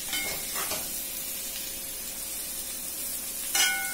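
Chilli garlic potatoes roasting in a hot pan, a soft continuous sizzle and hiss with a few brief scraping stirs near the start and a sharper clatter toward the end.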